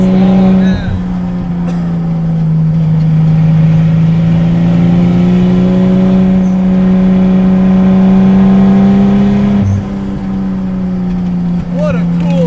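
A 400-horsepower 2JZ-swapped Datsun 260Z rat rod idles loud and close, its engine note held steady and droning for several seconds with a brief blip of revs near the end.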